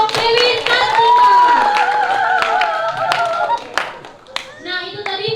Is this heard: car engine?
no